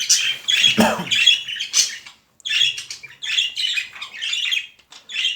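Several small caged birds chirp and squawk busily at close range, rapid overlapping calls in bursts with brief pauses, no voices.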